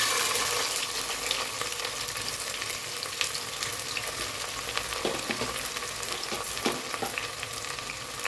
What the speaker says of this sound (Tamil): ஆயில் நல்லா காஞ்சிருச்சு இப்போ இந்த ஸ்டேஜில் நான் பெரிய வெங்காயம் ஒரு மூணு வெங்காயம் போட்டுக்கிறேங்க